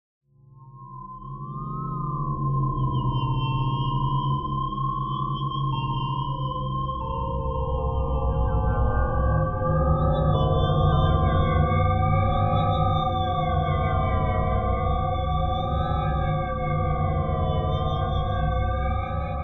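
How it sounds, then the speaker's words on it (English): Modulated synth tone for atonal horror sound design, a steady drone with several stacked tones that wobble and drift in pitch, sliding up and down continuously and growing denser partway through, loud and alone. "now we've got this weird sort of pitch shifting going on"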